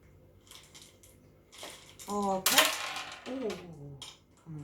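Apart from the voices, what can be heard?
plastic pot being removed from plant roots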